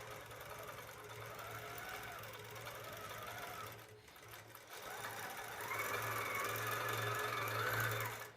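A sewing machine stitching quilting lines across a baby quilt, a steady close mechanical hum with rapid needle chatter that pauses briefly midway and then resumes a little louder.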